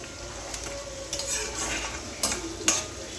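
Onions frying in a pan for biryani are stirred with a utensil, giving a steady sizzle broken by a few sharp scrapes and clinks against the pan, close and clear with no talking.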